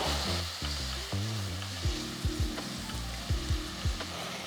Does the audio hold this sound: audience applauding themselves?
no